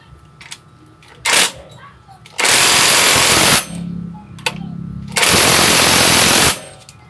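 An impact wrench tightens bolts on a motorcycle's drive pulley and belt assembly, firing in two loud, sustained rattling bursts of about one and a half seconds each, with a short blip before them and a quieter motor hum between.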